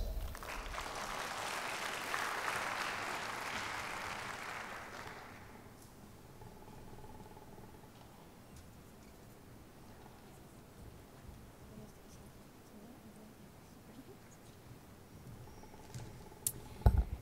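An audience at a medical lecture gives a short burst of applause, a soft wash of many hands that fades out after about five seconds into quiet room tone with faint scattered knocks.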